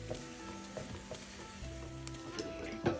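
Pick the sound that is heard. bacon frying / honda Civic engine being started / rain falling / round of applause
bacon frying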